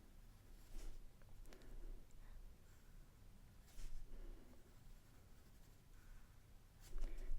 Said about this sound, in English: And here I will write Julia, like this.